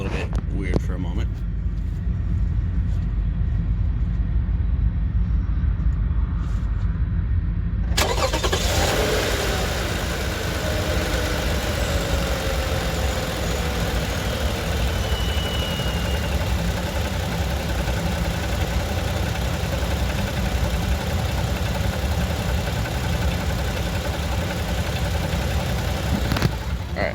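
The engine of a 2017 Toyota Sienna minivan cranks and catches partway through, then settles into a steady idle that rumbles on evenly, close and moderately loud, after a quieter stretch before the start.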